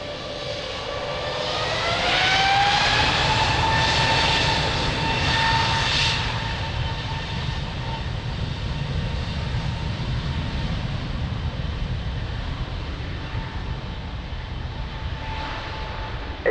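Jet airliner taking off from runway 02 at Lisbon Airport, a loud sustained engine roar with rising whine that builds and stays strong, heard at a distance outdoors with no talk.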